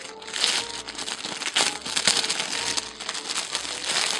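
Plastic wrapping being peeled and crinkled off a custom leather B6 traveler's notebook, a steady close run of crinkling and crackling with sharper crunches throughout.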